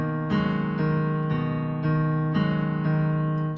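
Slow piano chords from a song, struck every half second or so and sustained, ringing clearly and close with no voice over them.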